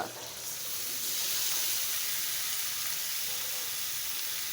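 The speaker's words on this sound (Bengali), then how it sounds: "দেখো মশলাটা কষানো হয়ে গেছে তেল উঠে আসছে" Spice paste fries in hot oil for a radish and fish curry, giving a steady, close sizzling hiss that runs unbroken throughout with no talk.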